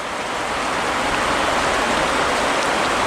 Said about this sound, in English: That's proper rain.